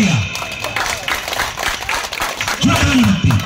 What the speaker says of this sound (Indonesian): dengan tepuk meriah